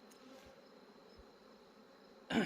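Honeybees buzz at an opened hive frame of drawn comb during a goldenrod nectar flow, a steady low hum for most of the moment before a louder burst of activity near the end, with no talking.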